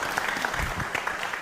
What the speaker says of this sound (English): Applause for RRI.